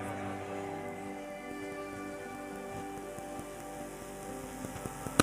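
Steady rain falls on surfaces outside during a church gathering in the rain, a dense even hiss lasting throughout with a few louder drips near the end.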